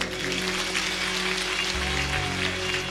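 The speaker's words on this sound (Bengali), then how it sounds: "ওনার জন্য তালি একবার।" An audience at a religious question-and-answer gathering claps together, a dense, continuous patter of applause that holds steady throughout without any voices.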